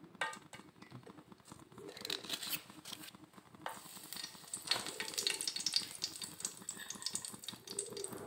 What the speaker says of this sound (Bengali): তেল গরম হয়ে গেছে, এবার আমি গোটা মশলাগুলো দিয়ে দেবো।